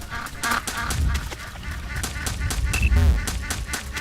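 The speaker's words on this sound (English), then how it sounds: "So these are like, this is in the space world, and these are alien ducks." Honking calls from alien ducks in a space-themed party video game sound in rapid repeated bursts layered over loud game music and beeping effects.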